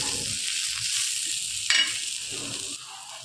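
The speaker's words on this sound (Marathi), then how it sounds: "2 मिनिटं भाजायची कमी गॅसवर" Chillies fry on low gas with a ground paste of garlic, mint, coriander and curry leaves, giving a steady close sizzle with faint stirring scrapes and no talk.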